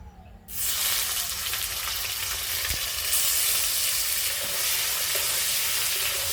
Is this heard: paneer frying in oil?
yes